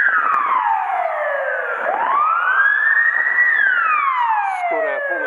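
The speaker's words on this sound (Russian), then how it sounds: "Скорая помощь едет. Слышите, да?" An ambulance siren passing by on a city street in Yakutsk, its wailing tone sweeping up and down and shifting in pitch as the vehicle goes past, loud and clear over quiet surroundings.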